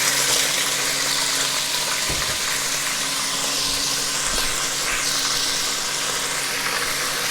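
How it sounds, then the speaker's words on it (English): Pork pieces sizzling in a pan after being drained of pineapple and mango juice, a steady, close hiss and crackle with a couple of brief clunks, no voices. "Just want to fry it lightly till it starts getting a little bit of colour."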